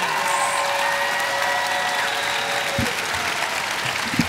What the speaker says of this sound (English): would you please give them a huge round of applause?